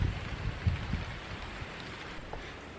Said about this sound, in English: So it started to rain slightly.